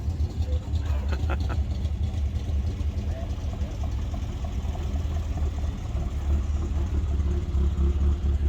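A small vintage Nash Metropolitan car's engine rumbles low and steady as it rolls past close by, with faint voices in the background.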